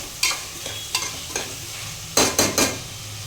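Vegetables frying in a pan with turmeric and green chillies, a steady sizzle broken by several scraping stirs of a spoon, close up.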